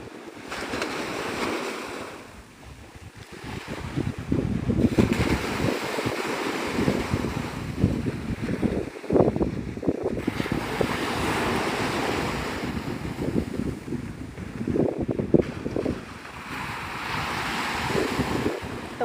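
Ocean surf rolls onto the shore at Navarre Beach, Florida, with waves breaking in repeated swells amid gusting wind that buffets the microphone on a breezy day.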